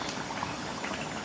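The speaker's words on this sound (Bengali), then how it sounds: "টকবক করে ফুটছে।" Egg, pointed gourd and potato curry boils in a covered pot, giving a steady close bubbling and gentle popping throughout, with no talk.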